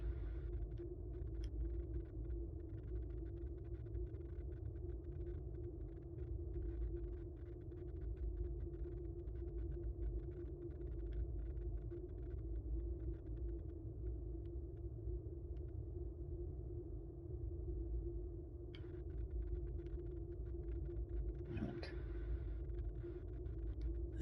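Deep, steady rumble and low hum of an ion storm in the Star Trek Online video game, a droning background throb that holds for over twenty seconds with faint crackles and one brief swell near the end, with no talking.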